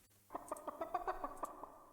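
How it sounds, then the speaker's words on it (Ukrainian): Chickens cluck in the game Dungeon Keeper Gold, a quick run of about a dozen short, evenly spaced clucks at moderate volume, fading out at the end. "О, курочки завелись."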